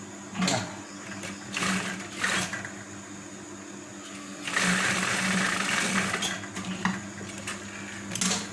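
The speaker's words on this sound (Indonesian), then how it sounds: "Langsung jahit dari pinggir." A sewing machine stitching the edge of a slanted trouser pocket, whirring in short runs and then a longer steady burst, close and fairly loud, with light clicks and clatter between runs.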